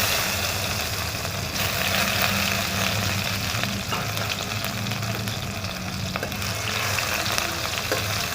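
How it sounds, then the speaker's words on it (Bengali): Tomato frying in a little oil with panch phoron, a dense, continuous close sizzle with a low steady hum underneath and occasional stirring, no talking. "টমেটোটা একটু ভাজা হয়ে যাক"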